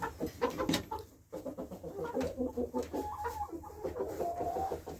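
A group of hens clucks and murmurs steadily nearby, with a few sharper squawks near the start and continuous chatter throughout.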